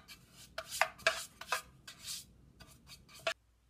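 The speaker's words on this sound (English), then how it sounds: "First, butter the pan" Butter being spread across a baking pan for banana bread: a series of short, close scraping and rubbing strokes in an irregular rhythm, with quiet gaps between them and no voices.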